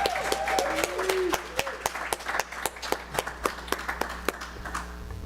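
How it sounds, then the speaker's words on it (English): Gala audience clapping for an honoree at a multicultural awards event, the applause thinning toward scattered, regular claps from a few hands in a reverberant hall, with a voice sounding briefly at the start. "can I have one more round of applause for Malik Nowlin?"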